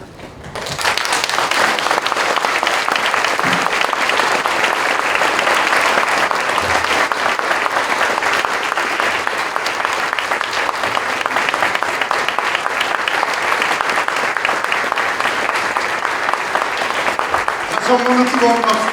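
A church congregation applauds warmly during a service honouring a retiring senior pastor, sustained dense clapping from a large crowd filling the room for most of the stretch, with a voice briefly rising at the end.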